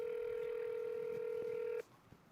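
One steady telephone keypad tone sounds for about two seconds while a call is dialed, fairly quiet, then stops abruptly and leaves faint background noise.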